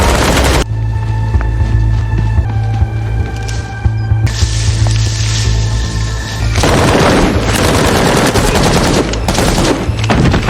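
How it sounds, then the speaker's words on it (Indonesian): Loud, sustained gunfire exchange in a film, with rapid bursts and booming shots over a steady low rumble and tense background music, no voices. "Dan terjadilah baku tembak."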